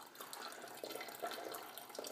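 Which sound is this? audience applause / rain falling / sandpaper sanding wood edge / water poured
water poured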